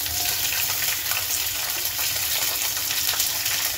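Green chillies sizzle in hot oil with cumin, fenugreek and mustard seeds, giving a steady, loud, close frying hiss with no talking.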